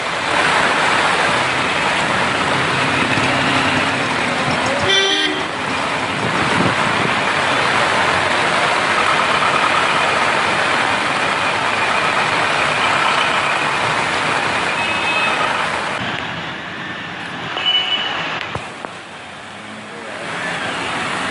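Vehicles pushing through knee-deep water on flooded roads during torrential rain in Maharashtra: a continuous broad wash of splashing water and engine rumble, with a few passing surges.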